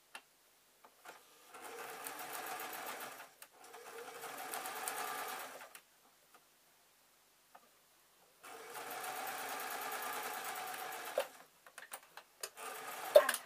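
A sewing machine stitches fabric in two long, steady runs of rapid mechanical clatter separated by a pause, followed by a few short bursts and clicks at the end, close and clear with no talking.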